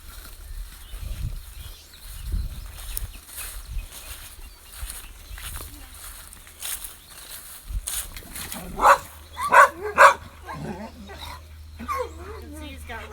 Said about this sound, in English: Now you can obviously see what his body language is going to be like when they bark and stuff at him.